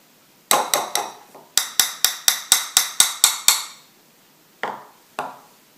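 A chocolate-coated treat is tapped repeatedly against a hard edge to shake off excess chocolate, giving a quick series of about a dozen sharp, ringing knocks followed by two isolated taps.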